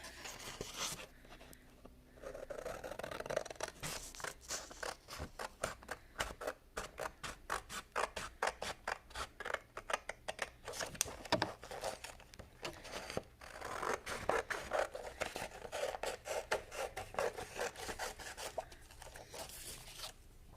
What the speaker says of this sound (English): I'm just going to go ahead and cut out each of these little things here that I want to use.